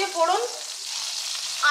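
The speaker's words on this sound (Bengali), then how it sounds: "এই তেলের মধ্যেই দেবো কালো জিরে ফোড়ন" Nigella seeds tempering in hot oil left from frying prawns, a brief bright crackle and hiss close by that quickly settles to a soft sizzle.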